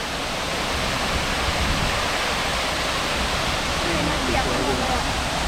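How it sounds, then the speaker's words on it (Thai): Waterfall at a tourist park in Surin, Thailand, a steady broadband rush of falling water that fills the whole clip, loud and close. "นี่ตรงนี้ก็จะเป็น น้ำตก น้ำตกนะฮะ"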